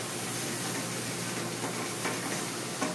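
Pasta sauce for bucatini all'amatriciana simmering gently in a pan over very low heat, a soft, steady hiss with faint bubbling ticks, close and quiet with no talking.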